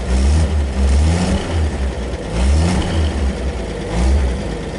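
A 1939 Chevrolet Master 85 engine, restarted after 48 years in a barn, idles close by with a low, lumpy rumble that swells in slow, regular surges.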